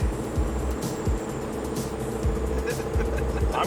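Car engine pulled at full throttle from inside the cabin, a loud, steady droning roar with rising pulses and some rattling, close throughout, with faint voices underneath.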